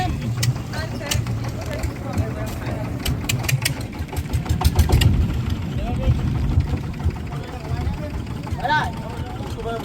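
A small boat engine sputters to life and settles into a steady idle, with people talking nearby over the motor's chugging drone.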